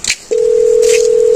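Telephone dialing tones: a short beep on a phone keypad, then a single loud, steady tone that holds unbroken to the end.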